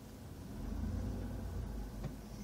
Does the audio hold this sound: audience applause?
no